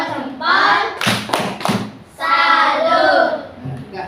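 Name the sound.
group clapping salute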